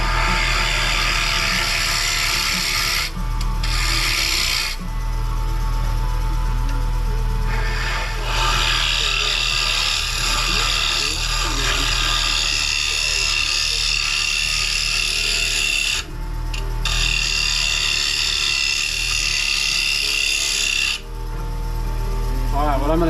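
Wood lathe spinning as a gouge cuts a wooden bowl, a steady close motor drone with a continuous scraping, rubbing cut that rises and eases in intensity, pausing briefly a few times.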